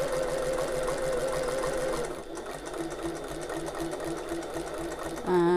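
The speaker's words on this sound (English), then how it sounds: "I'm going to sew 1/8 of an inch or 3mm away from the edge" A sewing machine runs steadily as it topstitches a tote bag close to the edge, a continuous close whirring hum that slows and stops near the end, with a person talking over it.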